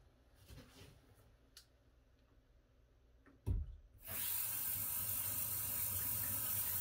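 Water rushes into a Pelican whole house water filter and softener system as the fill-side valve is slowly cracked open, starting abruptly midway as a steady, loud hiss that continues to the end after a few faint clicks.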